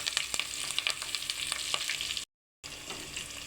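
Onions, green chillies and curry leaves fry noisily in a pan with a dense, close sizzle and crackle, briefly cut to silence before the sizzle resumes.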